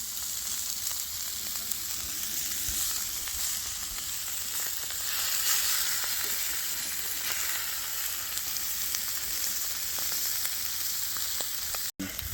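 Fajita vegetables fry on a flat griddle with a steady, close crackling sizzle that holds even throughout, with faint stirring scrapes underneath.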